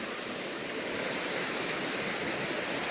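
Small waterfalls on a mountain hiking trail give off a steady, close, rushing hiss of falling water with no break.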